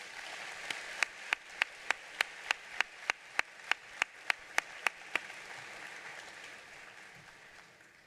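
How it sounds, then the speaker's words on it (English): At a high school commencement, a single pair of hands claps near the microphone in a steady, evenly spaced run of about sixteen sharp claps, backed by soft distant applause that fades away after the claps stop. "Let's give them a round of applause."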